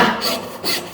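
A Veritas dovetail crosscut saw with 20 teeth per inch rasps through wood in two quick strokes, close and loud, with a dry scratchy rhythm.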